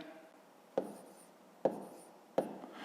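A pen writes numbers for long division on paper, with three sharp taps, each followed by a short scratching stroke, close and quiet with no talk.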